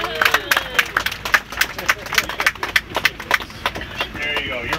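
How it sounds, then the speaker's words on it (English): A small crowd at a woodworkers' gathering claps in scattered, uneven bursts for a prize drawing winner, with chatter and voices mixed in close by. "Big round of applause."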